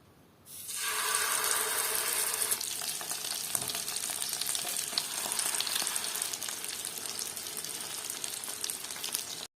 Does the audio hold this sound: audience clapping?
no